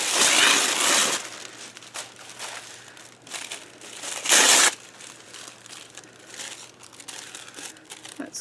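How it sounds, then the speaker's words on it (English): Gel printed tissue paper handled up close for a journal: loud crinkling and crumpling at the start, then softer rustles and a second sharp crinkle burst midway, no talking. "I have some gel printed tissue paper."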